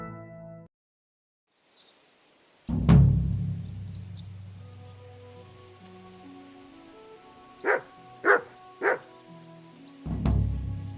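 A dog named Mutt in the medieval game Kingdom Come Deliverance 2 gives three sharp, evenly spaced barks at middle distance, set against a low ambient game soundscape with light rain-like texture.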